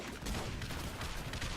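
Rapid, dense gunfire from a colonel unit's focus fire in a base-defense strategy video game rattles continuously at moderate volume.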